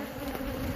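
Honey bees from a flighty hive swarm around it in a dense, continuous buzz, close and loud.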